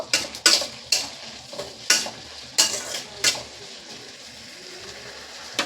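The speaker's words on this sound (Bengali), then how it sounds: "এর মধ্যে টমেটোগুলোকেও ভালো করে কষিয়ে নেব।" Tomatoes and five green chillies sautéing in a pan for mochar ghonto, stirred in a series of sharp scraping strokes over a soft background sizzle, fairly close and alone.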